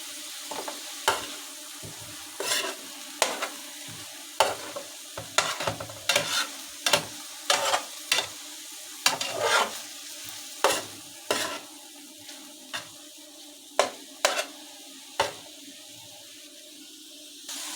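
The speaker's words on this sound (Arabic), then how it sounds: "كرملوا بقى معاها شويه البصل دول" Onions and meat frying together in a pan, a steady close sizzle broken by a dozen or more sharp scraping stirs at an uneven pace, with no talking.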